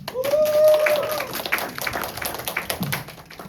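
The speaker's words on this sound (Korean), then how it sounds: "큰 박수로 맞이해 주세요." A student audience at a university seminar welcomes a presenter with scattered, uneven clapping that thins out, while a voice and a high cheer rise briefly at the start.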